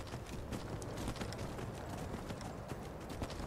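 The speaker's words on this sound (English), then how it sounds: "I don't like the clickety-clack noise that your horse makes, Serana." Steady clip-clop of horse hooves in Skyrim at a brisk trotting rhythm, close and fairly loud, repeating throughout with faint rustling in the background.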